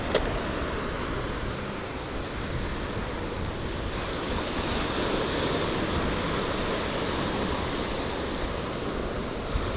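Rough ocean surf on a Florida beach, a steady, loud roar of breaking waves with wind buffeting the microphone, continuous and unbroken with no voices.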